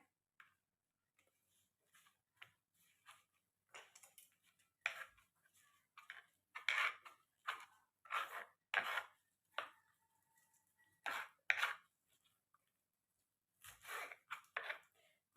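A knife chopping chakvat (bathua) greens on a board, a quiet series of crisp, close cuts coming in uneven bursts and small pauses.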